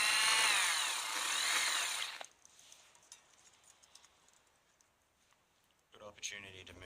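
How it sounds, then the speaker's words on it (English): A power drill whines loudly and steadily for about two seconds, then stops; quiet rustling follows before another brief burst of machine noise near the end. "you just reverse your drill, pull that wire off and start it up again."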